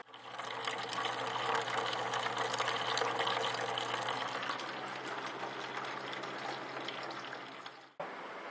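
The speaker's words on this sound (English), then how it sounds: "That's being pumped through the copper coil." A small pump pushing ice water from an ice chest through a copper coil on a homemade dehumidifier, a loud steady whirring hum with watery rush that runs for about eight seconds, then cuts off abruptly.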